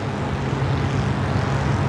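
A skydiving plane's aircraft engine drones loudly and steadily at close range, a constant propeller-like roar with no break and no talk.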